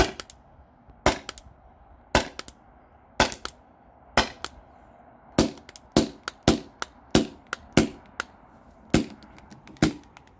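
A gas-powered Salt Supply S2 salt gun fires its last shots as the gas runs low, about a dozen sharp, loud cracks spaced roughly a second apart with short pauses, each shot standing alone.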